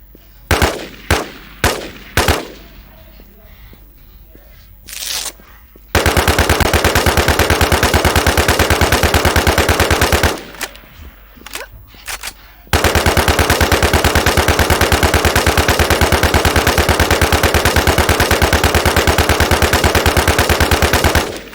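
Automatic gunfire from the WarZ video game rattles in long sustained bursts, loud and close, after a few sharp single shots and short pauses.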